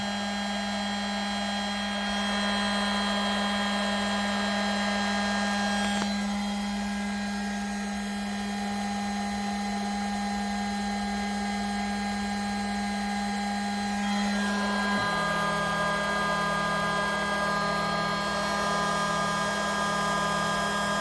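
A homemade CNC machine's spindle turning a 0.5 mm two-flute end mill at 12,000 RPM, cutting a printed circuit board, a steady, loud whine with faint cutting noise that shifts tone twice, no speech.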